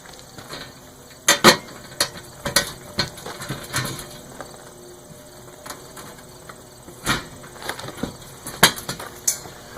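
Nuts and bolts being tightened on a Brinly 10 cubic foot dump cart during assembly, heard as close metallic clicks, ratcheting bursts and clanks in irregular clusters over a quiet background.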